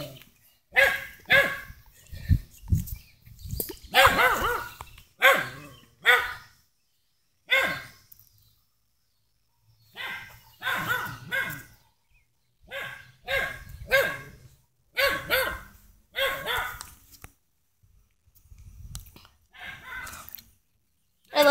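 Dogs bark in loud, repeated bursts outdoors, with clusters of sharp barks separated by short pauses and no talking.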